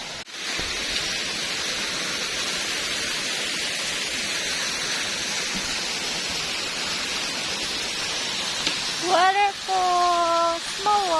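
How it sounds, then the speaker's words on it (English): Small Tibumana waterfall in Bali roars as a steady, loud wash of white noise throughout, with a voice briefly speaking over it near the end. "Waterfall, small one."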